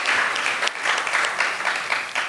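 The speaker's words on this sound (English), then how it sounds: "let's offer our applause and appreciation for their contributions" Audience applause at an ISKCON Chicago temple community appreciation gathering, a steady dense patter of many hands clapping close by, holding level for a couple of seconds with small swells.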